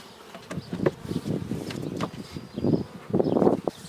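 Carniolan and Buckfast honeybees buzz around an open hive during a July check of the honey supers, with close, fluctuating drones swelling and fading as the bees pass nearby.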